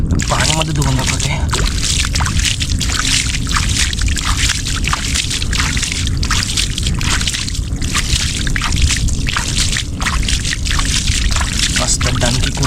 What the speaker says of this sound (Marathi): कुर्ली पाण्यामध्ये धुवून दाखवते